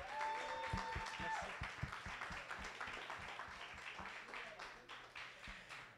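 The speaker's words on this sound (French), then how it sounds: "On l'applaudit." A studio audience at a live variety show event applauds a performer, a sustained burst of dense clapping with a voice talking briefly over the start.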